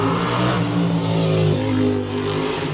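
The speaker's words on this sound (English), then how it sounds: "That's a cool motorcycle sound." A motorcycle engine revs loudly and close by, a dense rough roar that swells and holds for a few seconds, with no talking.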